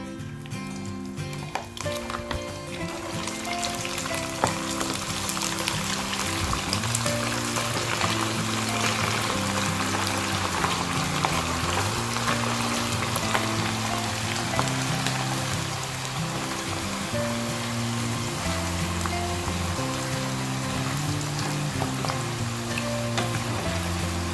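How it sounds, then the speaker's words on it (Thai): Food sizzles and crackles steadily in a hot pan over medium heat, a dense hiss like rain, with soft music playing underneath. "ตั้งกระทะฮ้อนแล้วนะครับ เอาลงไปทอดเลยนะครับใช้ไฟกลาง ๆนะครับ"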